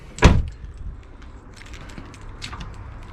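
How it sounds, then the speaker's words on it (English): A single solid thump of a Range Rover L405 door shutting close by, followed by quiet shuffling and light clicks. "Just close the door."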